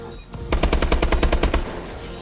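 A rapid burst of automatic gunfire in a video game, about a dozen loud, evenly spaced shots close up, starting after a brief quiet moment.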